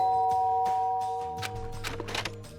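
A doorbell chimes beside a dormitory room door in the video game Danganronpa: Trigger Happy Havoc. One clear tone rings near and steady, then gives way to soft game sounds and light clatter.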